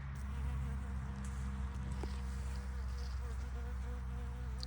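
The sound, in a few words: bumblebee buzzing in a garden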